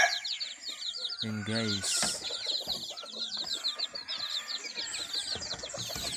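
Chicks and fowl cluck and chirp in a yard, with close, busy peeping throughout. Someone talks over them and a short rooster-like call cuts in.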